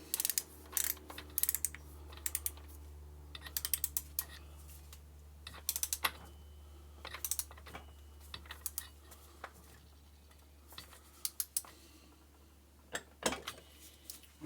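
Tightening a bolt on the primary drive of a Steve Parrish F1 RD500 motorcycle: close, sharp metallic clicks and ratcheting taps in irregular clusters, with gaps of quiet hum between them.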